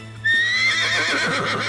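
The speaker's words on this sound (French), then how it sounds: "L'animal émit un hennissement de terreur quand Charlène s'agrippa à lui." A horse lets out a loud, close, terrified whinny that starts suddenly and trails off in a long, shaky neigh, heard on its own.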